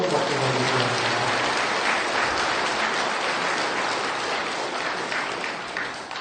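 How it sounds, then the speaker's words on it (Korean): An audience at a Buddhist temple's monthly dharma gathering gives warm, sustained applause, a thick even wash of many hands clapping that tapers off gently at the end, with a brief hum of voice at the start. "감사해 주셔서 교과서님께 다시 한번 뜨거운 박수 보내드립니다"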